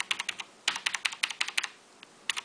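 Cherry MX mechanical keyboard switches fitted with a landing pad, keys pressed down hard, giving quick bursts of crisp clacking in irregular clusters, close and clear with no speech.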